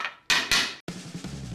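Metal hammering while assembling machined spear gun parts in a workshop, two loud sharp strikes close together followed by a few quieter knocks and handling noise.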